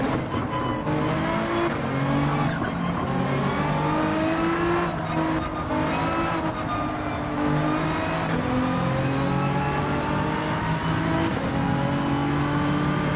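A race car in the Gran Turismo 7 racing game at Grand Valley revs hard, its engine note climbing and dropping as it shifts from first into second gear, loud and continuous throughout with overlapping harmonic whine.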